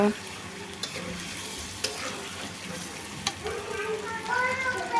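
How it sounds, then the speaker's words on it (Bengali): Cucumber curry sautés in a pan with a steady sizzle and frying crackle, while a spoon scrapes and stirs through it in occasional clicks and scrapes. "এইভাবে 5-6 মিনিট ধরে কষাতে থাকবো।"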